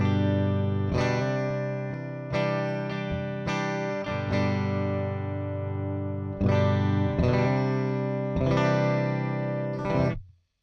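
Electric guitar chords through a Nux Solid Studio amp modeler without overdrive ring out one after another with a lightly crunchy power-amp tone, each left to sustain before the next, ending abruptly.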